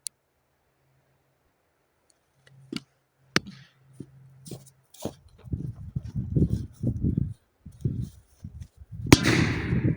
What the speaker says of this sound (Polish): nasza ostatnia petarda na sam koniec